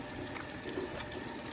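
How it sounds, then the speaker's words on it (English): Tap water runs steadily into a sink during handwashing, a short continuous close rush of splashing flow with no talking. "Make sure to wash your hands."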